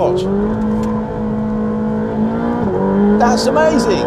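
Ferrari 458 Speciale engine revving hard as the throttle opens, a loud steady high-pitched howl that climbs and shifts pitch, with someone talking excitedly over it.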